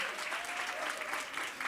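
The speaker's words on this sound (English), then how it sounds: "One more time, a round of applause." An audience at a marketing workshop and expo applauds in a continuous burst of clapping that is fairly distant and soft.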